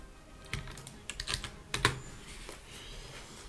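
Fingers tap out irregular bursts of keystrokes on a computer keyboard, close and clicky, with short pauses between the clusters.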